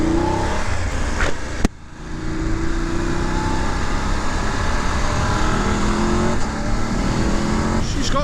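A stock-exhaust 2019 BMW F850GSA motorcycle engine pulls hard under acceleration on an open road, a steady loud drone with wind rush and a brief sharp knock early on.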